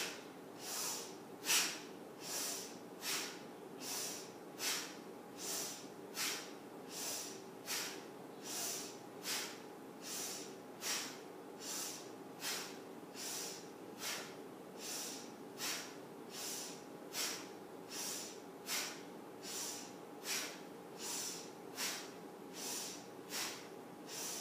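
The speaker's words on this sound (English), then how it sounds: "Inhale, arms lift, sharp inhale through the nose, exhale, sharp exhale through the nose" Rapid, rhythmic sharp exhalations forced through the nose during a yoga breathing set, about two per second in a steady even pulse, close and moderately loud with no talking.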